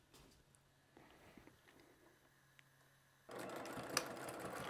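A sewing machine stitches quilting fabric squares, batik pieces for a quilt block, with a 1/4-inch seam guide; quiet handling sounds lead to a steady, louder whirring run of stitching near the end.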